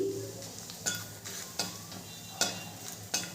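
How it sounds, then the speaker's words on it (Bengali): Whole mace, two dried red chillies, two cloves and cumin seeds dry-frying in a pan without added oil, with a soft sizzle under repeated spoon scrapes and stirring taps at a steady, close pace. "মশলাটা একটু নেড়ে দেবো।"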